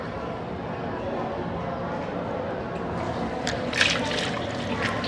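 Water splashes during wudu face washing, with a few quick wet splash bursts near the end over a steady background hiss.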